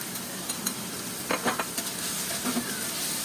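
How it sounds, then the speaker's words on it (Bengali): Masala and fried prawns are stirred together in a pan for a prawn bhuna, giving a steady low sizzle with a cluster of scraping and clinking strokes near the middle, close and moderately loud. "এখন আবার কিছুক্ষণ নেড়ে চেড়ে এর মধ্যে ভেজে রাখা মাছগুলো দিয়ে নেব"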